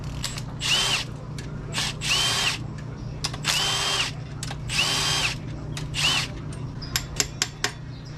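A power tool breaks loose the rod bolts on a junkyard K24a2 engine block. It comes as about six short, loud, whining bursts separated by pauses, with light metallic clicks near the end.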